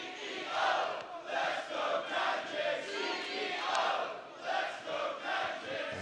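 A split wrestling crowd in Doncaster cheers and chants in rising and falling waves, loud and reverberant, with no clear speech above the roar.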